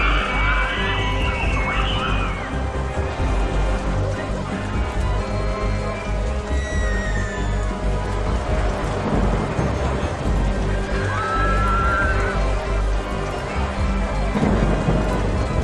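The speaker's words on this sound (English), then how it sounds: "And here comes the rain again." Rain pours steadily in the OpenRCT2 theme-park game while low thunder rumbles beneath it, a continuous stormy wash with a few tonal game chirps over the top.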